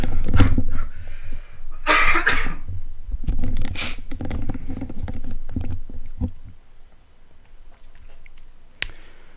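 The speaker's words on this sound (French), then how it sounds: "je vais tousser un petit peu pour changer" Several coughs, some hoarse and bursty, come in close succession with pauses between, loud and close, with a sharp click near the end.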